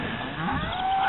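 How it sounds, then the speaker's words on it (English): Cattle moo during a ranch roundup of about 150 cows with calves for branding and castrating, a single loud, close, drawn-out low bellow with no talking. "There's about 150 head of cows with equal number of calves."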